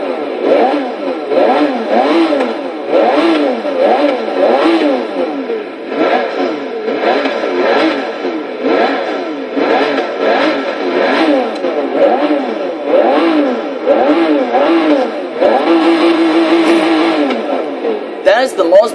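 A 2012 Pagani Huayra engine in Forza Motorsport 6 wails up and down repeatedly in quick high-revving bursts, loud and close, with a synthetic game-like tone.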